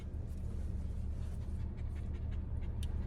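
A newly adopted dog pants in quick, steady breaths with faint, brief whimpers over low background rumble, close and continuous throughout.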